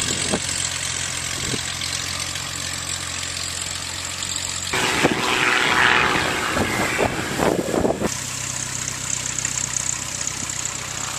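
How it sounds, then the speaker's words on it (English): A large AgustaWestland helicopter's engine runs steadily nearby, a constant droning whine with a louder rushing surge midway before settling back to an idle hum. "Looks like the Augusta, really big helicopter that they use"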